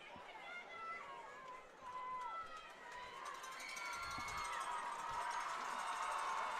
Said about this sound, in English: I know the student section is cheering and trying to get our team rallied